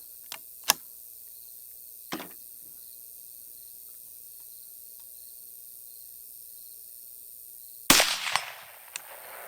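A Rossi RS22M .22 Magnum rifle loaded with varmint rounds, heard as a few sharp isolated reports spaced seconds apart, with a sharper louder crack near the end, over a quiet outdoor bed of cricket chirping.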